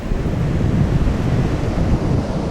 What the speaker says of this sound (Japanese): 波がすげえ